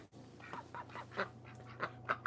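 Ducks quacking inside a barn on a winter day, a quick series of nasal honking quacks in uneven bursts, close and fairly loud over a steady low hum.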